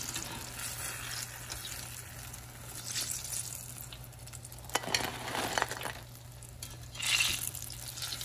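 Cornstarch-coated eggplant deep-frying in hot oil, a steady soft sizzle with occasional stirring clinks and louder bubbling bursts, close and without talk.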